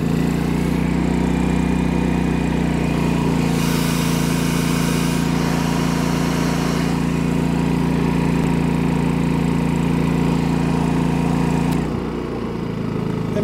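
Firman generator running on propane in eco mode, its engine holding a steady loud drone under a hairdryer load, with a brief dip and change in tone near the end as the speed shifts.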